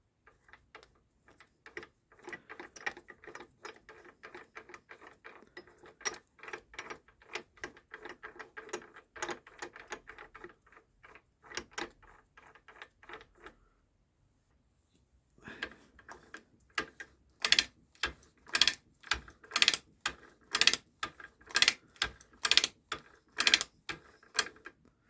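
A repaired gearbox on a Scott Squirrel motorcycle turns over, giving fast mechanical clicking and ticking bursts that pause around fifteen seconds, then resume louder with sharper rhythmic knocks, close by.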